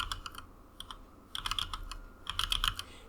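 Fast keystrokes on a computer keyboard while writing in drafting software, coming in quick bursts of clicky taps separated by short pauses, close and clear with no talking.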